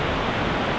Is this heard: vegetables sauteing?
no